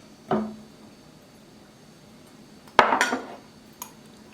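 Saltfish fritter ingredients drop into a bowl, a few sharp clinks and clatters of utensil against dish, with one longer rattling clatter and quiet pauses between.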